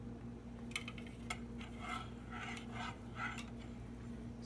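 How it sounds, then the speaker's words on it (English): A whisk stirs pumpkin spice cupcake batter in a bowl with soft, faint scraping swishes and a few light clinks against the side, close by but quiet, with no talking. "Macy is going to stir with the whisk"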